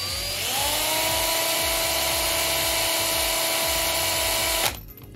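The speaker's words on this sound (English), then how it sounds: "cordless drill going sort of like this" A big cordless drill whines at high speed as it sands a vintage Matchbox Lotus Europa die-cast car, a steady loud motor drone with a grinding buzz that cuts off abruptly near the end.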